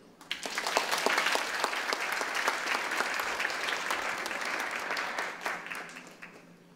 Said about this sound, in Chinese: 给我们许玉坚教授热烈的掌声